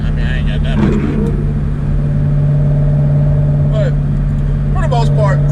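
A Ford Mustang GT on drag radials gets a little throttle in 4th gear on a rainy road, its engine holding a steady, close, low drone throughout with only a mild swell and faint voice-like sounds over it.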